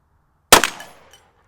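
A single loud gunshot from a Remington carbine firing .45 Colt, a sharp close crack that rings out and decays over about half a second.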